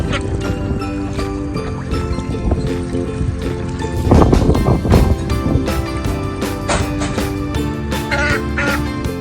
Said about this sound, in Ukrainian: Кря-кря, кря-кря.